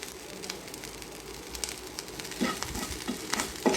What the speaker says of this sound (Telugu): కొంచెం తీసుకొని ఫ్రై చేసిన తర్వాత కొంచెం సాల్ట్ వేసుకున్నానండి.